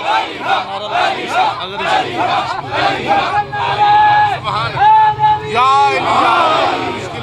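A crowd at a Shia majlis held in a graveyard on Eid chants "Ali Haq" in loud, rising bursts of many voices, swelling and repeating over several seconds.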